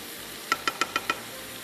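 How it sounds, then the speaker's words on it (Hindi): Meat and tomatoes fry in a pan for a gosht and ghiya dish, steady sizzle under five quick, evenly spaced stirring knocks of a spoon against the pot. "चलो हम इसको भून रहे थे, टमाटर भी सॉफ्ट होने शुरू हो गए"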